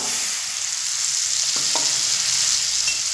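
Spices frying in a pan, with a little water added from the spice bowl, give a loud, continuous hissing sizzle and a couple of faint spoon knocks.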